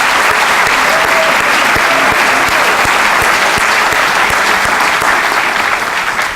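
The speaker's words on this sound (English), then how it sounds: "Let's give him one more round of applause." A school awards ceremony audience claps steadily for several seconds, a dense, loud wash of applause heard close with a faint voice briefly underneath.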